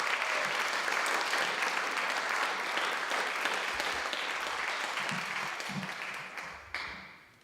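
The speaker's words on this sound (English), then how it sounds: "Let's clap once more for Hugh and Jenna." An audience at an arts celebration applauds in a full, steady wash of clapping that holds for several seconds and then fades, with a few stray claps at the end.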